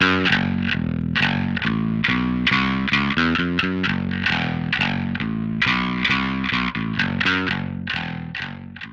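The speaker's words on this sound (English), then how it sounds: "I'm going to put on the distortion" A bass guitar through a Line 6 Helix distortion patch plays a quick riff of plucked notes, gritty and loud, with a steady rhythmic pattern.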